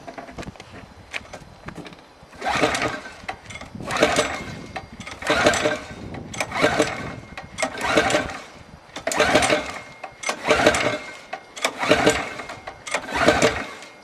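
A Briggs World Formula kart engine being cranked with a dry fuel line, repeated rhythmic pulls of about two seconds each, loud, close and mechanical, with brief pauses between attempts and no ignition.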